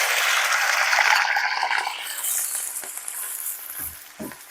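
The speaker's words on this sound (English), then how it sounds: "Get that frying." Chicken fried rice sizzles loudly in a hot pan, the crackling hiss gradually easing, with a few soft clinks and scrapes toward the end.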